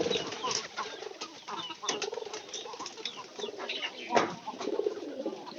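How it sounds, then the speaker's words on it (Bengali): Free-roaming pigeons coo steadily at close range, soft repeated calls with occasional wing flaps and outdoor rustle throughout. "এগুলো সব কবুতর ছেড়ে দেওয়া"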